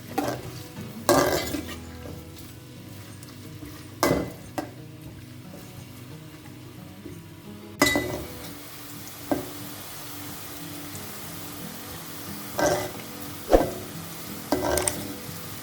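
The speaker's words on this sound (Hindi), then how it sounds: "प्याज को हम बघार करेंगे, बल्कि हम इसको लाल होने के बाद निकाल लेंगे" Three onions frying in ghee for mutton korma, a low steady sizzle under occasional clinks and scrapes of a utensil against the pot, close and without talk.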